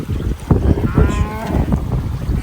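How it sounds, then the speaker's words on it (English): Cattle moo in an open field on a farm in Jamaica, one long drawn-out low call rising out of steady outdoor rumble and murmur, fairly close. "we're coming outside the cow. Out in the fields."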